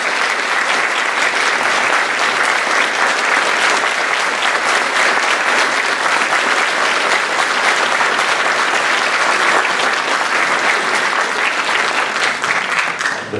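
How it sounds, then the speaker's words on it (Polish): A large audience at a song festival concert applauds loudly and steadily, dense clapping that fills the whole stretch without letting up before tapering slightly at the end. "jeszcze nic nie zrobiłem, a takie duże brawa"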